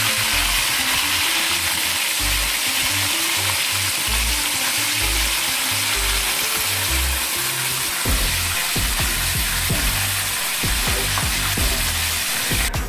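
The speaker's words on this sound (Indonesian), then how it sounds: "Nih bun, aku kasih denger suara gorengnya ya." Tofu fries in a pan of hot oil with a loud, continuous sizzle and crackle, close up, with occasional clinks and stirring scrapes from the pan.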